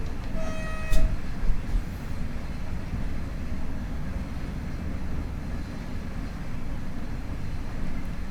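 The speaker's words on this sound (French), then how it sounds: "Je klaxonne." An ICMm train's horn sounds once, a short loud tonal blast near the start, in the Train Sim World 6 game, followed by a steady rolling rumble of the train that continues throughout.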